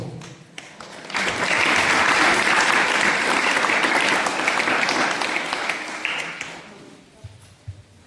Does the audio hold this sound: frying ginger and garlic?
no